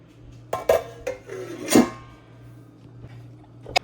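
Metal pot of sambar set down on a gas stove: a few close clanks and a louder scraping clatter, then quiet with a faint steady hum and one last small knock.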